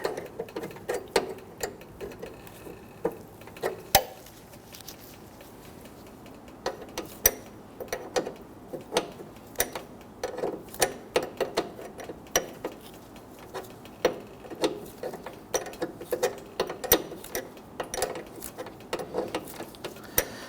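Wrench snugging down a front brake hose fitting on a 2010-2019 Ford Taurus, faint irregular metallic clicks and small ratchety ticks scattered over a quiet background.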